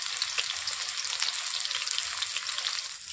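Chopped onion with nigella seeds frying in hot oil gives a steady, close hiss and crackle, bright and continuous with small popping spits, no voices.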